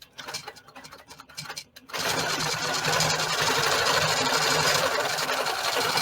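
A sewing machine stitches a quilt strip for a Christmas placemat, starting after a few short pauses into a steady, close, fast whirring run that continues to the end.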